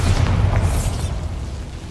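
A Bombarda spell explodes in a Harry Potter video game, a deep booming burst with a brief crackling flare that settles into a low rumbling tail, loud and close, with no voices.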